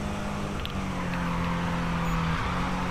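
A Toyota GT86 engine in Need for Speed 2015 hums at a steady low drone, fairly loud and sustained with a faint background wash, no talk.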